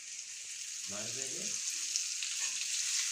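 Chopped spinach stir-frying with turmeric in a pan makes a constant soft sizzle, with a brief voice speaking over it partway through.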